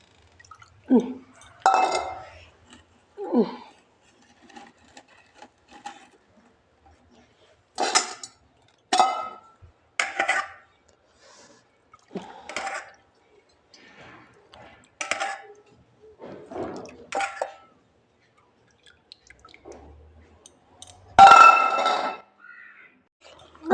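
A cooking pot being set back in place in a home kitchen after the rice is washed, giving scattered metallic clinks and clatters with pauses between them, fairly close.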